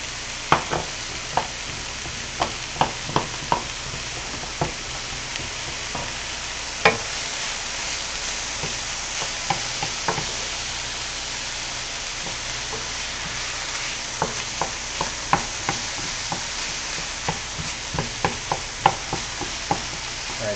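Onions sizzle steadily in a hot pan, with a broadband frying hiss throughout and frequent sharp clicks and scrapes as a utensil stirs them, close and continuous with no talking.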